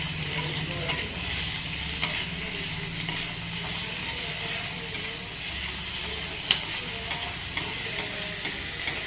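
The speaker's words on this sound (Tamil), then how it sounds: "சின்ன வெங்காயம் போட்டு நல்லா பொன்னிறமாக வறுக்கணும்" Small onions frying in hot oil for mutton chukka give a steady, dense sizzle with occasional stirring scrapes, close and continuous throughout with no talk.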